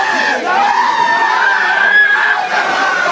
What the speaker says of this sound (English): There's that primal screaming.